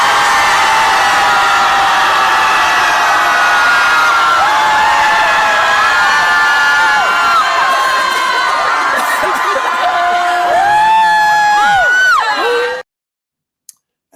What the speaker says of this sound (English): Here is what the Austin Scream Club does, Buck.